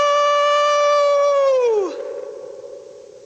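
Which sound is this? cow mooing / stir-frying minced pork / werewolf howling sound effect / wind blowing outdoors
werewolf howling sound effect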